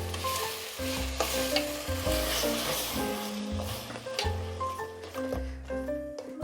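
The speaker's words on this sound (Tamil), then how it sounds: "இப்போ இந்த தக்காளி பழம் நல்லா வாசனை போகிற அளவுக்கு ஒரு 2 நிமிஷத்துக்கு நம்ம வதக்கிக்கலாம்" Onion is sautéed with blended tomato and ginger-garlic paste for a white chickpea kurma, giving a loud, close, continuous sizzle with stirring scrapes and no speech, under steady background music.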